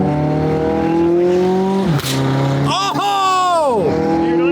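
A Lamborghini Aventador's engine and exhaust roar loudly from inside the car while driving, with strong rising and falling revs, a sharp crack as the gears change, and a quick rev climb that then drops away.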